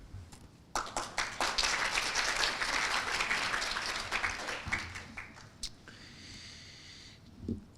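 A conference audience bursts into applause, starting with scattered claps and swelling into a full, sustained ovation before thinning out near the end.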